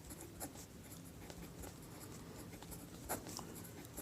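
A pen writes b squared in a class 10 maths exercise, giving faint, close scratching strokes in short bursts on paper with no voices.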